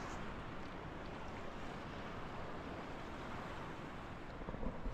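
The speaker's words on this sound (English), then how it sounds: "That's how the beach looks like also. Praia dos Pescadores, fisherman's beach." Steady surf rolls in at Praia dos Pescadores, the fisherman's beach in Porto, a soft, continuous wash of waves mixed with wind rumble on the microphone, with no voices.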